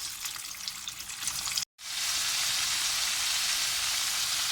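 Homemade KFC-style chicken pieces frying in hot oil give a loud, dense, continuous sizzle, broken by a split-second cut before resuming just as strongly.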